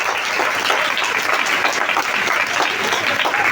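Sustained applause from a church congregation during a Palm Sunday sermon in Urdu/Hindi, dense steady clapping filling the whole stretch at an even, loud level with no break.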